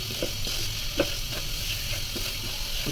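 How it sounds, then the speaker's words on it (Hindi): Semolina dry-roasting in a pan for suji halwa, with a steady close sizzle and occasional soft scrapes and clicks of a spoon stirring the grains, no voices. "अभी सूजी को एक दफ़ा अच्छे से भून लेंगे।"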